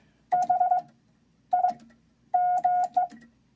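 Morse code spelling the word "big", sent on a semi-automatic bug key: short tone bursts at a steady pitch, grouped into three quick clusters of dits and dahs with gaps between, clear and close.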